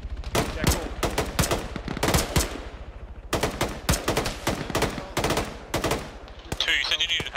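Gunfire in the Arma military game crackles in rapid bursts of close, loud shots, with brief pauses between volleys and a distorted radio-like noise near the end.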